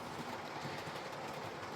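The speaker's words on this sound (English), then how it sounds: "Still have trains running around" Model trains running around a layout, giving a steady, continuous rolling rumble with faint rail clatter, moderately quiet and without pauses.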